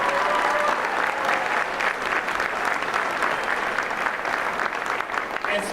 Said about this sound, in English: Please join me in a big round of applause and thanking Dave Reichert for his many years of service